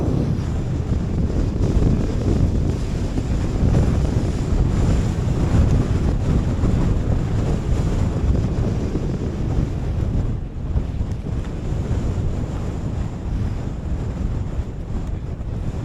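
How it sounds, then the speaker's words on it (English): Strong gusting wind buffets the microphone on the exposed Melbreak summit, a continuous loud low rumble with shifting gusts and no voices. "the wind's picked up here"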